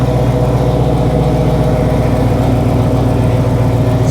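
A loud 2003 Hummer H2 LQ4 V8 engine with an aftermarket exhaust idles steadily nearby with a deep, rumbling exhaust note, a constant throaty drone with no pauses.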